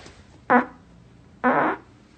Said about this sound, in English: have been using some royalty-free fart sound effects for quite some time, and we're upping the game